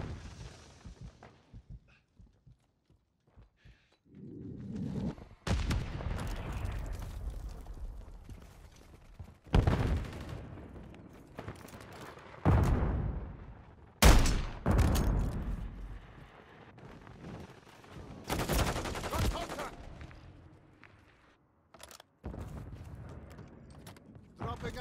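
Gunfire in a Call of Duty MW3 team deathmatch: a string of sharp, loud shots and bursts with quieter gaps between them, plus mechanical clatter and occasional explosive thumps over roughly twenty-five seconds.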